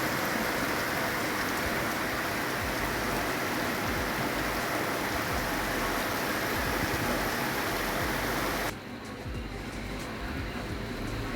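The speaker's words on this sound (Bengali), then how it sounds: "গুড়ি গুড়ি বৃষ্টি হচ্ছে।" Fine drizzling rain hisses steadily and close for about nine seconds, then cuts abruptly to a quieter, thinner wash of drizzle for the remainder, with no one speaking.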